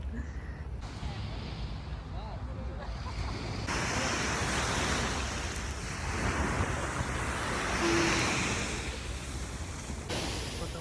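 Ocean surf rolling onto a beach in Barcelona in mid-November, a constant broad wash of waves with wind noise on the microphone and no speech.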